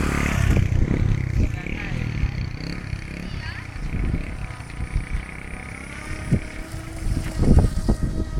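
Strong wind buffets the microphone beside a hydroplane in Bandung, West Java, Indonesia, giving heavy low rumbling gusts that surge and drop in irregular bursts, loudest near the end.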